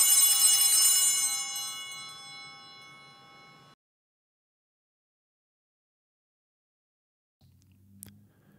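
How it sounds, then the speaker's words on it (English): A single bright altar bell chime during Mass rings out and decays over several seconds into silence, followed by faint low rustling near the end. "ring the bells once."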